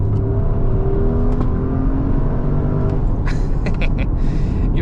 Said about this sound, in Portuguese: Ligou o V8, reduziu a marcha, foi.